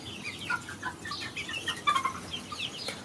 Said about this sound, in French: là on se retrouve chez les poussins